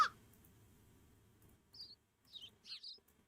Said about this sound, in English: Birds are just loud, dude.